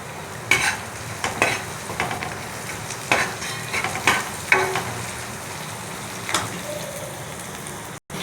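Food is stir-fried in a pan, giving soft scraping stirs and a low, steady sizzle, with a few sharper clinks of the spatula against the pan spaced through the stretch.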